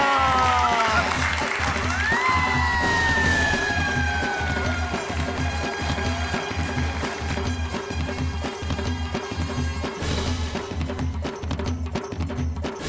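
Audience applause at a Gokuldham Premier League comedy balloon-game event, steady clapping from a crowd under tonal music sweeps and electronic whistles, continuing throughout.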